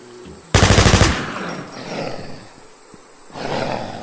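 A loud, rapid burst of AKM automatic rifle fire in a zombie shooter video game, about half a second of fast shots, followed by quieter in-game roars and ambient noise.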